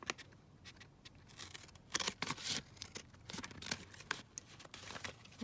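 Scissors cutting out fabric tags, with a run of close, quiet snips and paper-like rustles coming in irregular bursts.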